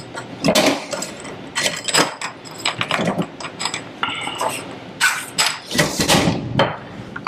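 Metal TV mounting hardware being handled while a bar is screwed into place on a commercial TV mount: irregular clanks, clicks and ratcheting taps, close and fairly loud, with no talk.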